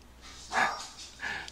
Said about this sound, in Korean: 누가 와서 걔가 짖나 했어요.